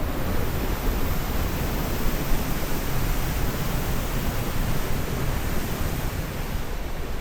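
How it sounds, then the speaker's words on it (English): Roaring water of the partly frozen 120-foot High Falls on the Pigeon River at the Minnesota border, a steady broadband rush that holds without a break, loud and even with no voices. "You can still hear the falls."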